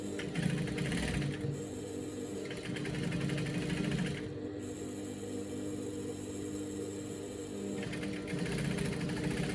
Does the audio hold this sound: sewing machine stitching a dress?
yes